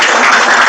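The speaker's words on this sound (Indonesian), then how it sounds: "Mari kita berikan tepuk tangan yang meriah." A crowd claps at a grand opening ceremony for the four-star Santika Premiere hotel, a dense, loud wash of applause filling the brief moment.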